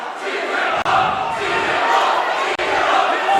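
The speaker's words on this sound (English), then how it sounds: "And the fans are cheering for a technical" Basketball crowd at a boys' playoff game between Regis Jesuit and Chaparral roars steadily, cheering and shouting for a technical foul on the Regis coach; loud, dense, sustained crowd noise with brief dips.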